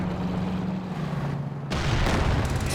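A heavy mortar fires in Company of Heroes 2, with a low rumble of battle that breaks into a sharp, loud blast and a rolling tail of further explosions and gunfire.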